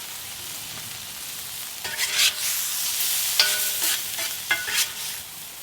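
Butter sizzles in a pan over a high burner while a lobster roll bun is buttered, a soft steady hiss that swells into louder crackling bursts with metallic scrapes.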